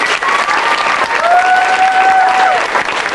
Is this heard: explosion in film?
no